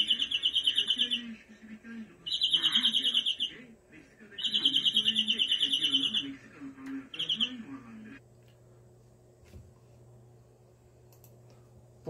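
A prized competition songbird sings its rolling trilled song in four bright, loud bursts over about eight seconds, with people talking quietly underneath and the bird then falling silent.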